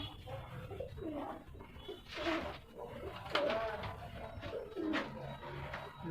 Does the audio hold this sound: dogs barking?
no